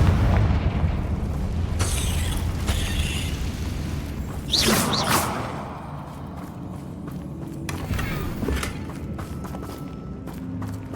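In Hogwarts Legacy, a Confringo explosive spell goes off with a booming burst and crackling whoosh amid game background rumble and footsteps, followed by quieter ambient effects.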